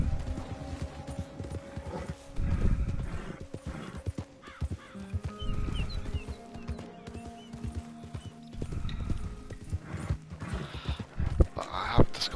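Rhythmic hoof clops from a Shire horse walking in Red Dead Redemption 2, moderately close, with a brief whinny and some ambient game sounds mixed in.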